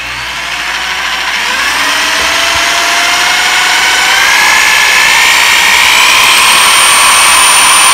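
A power drill spinning a Boosted Board electric skateboard wheel, a loud, close, steady high whine that climbs gradually in pitch as it speeds up, heard alone.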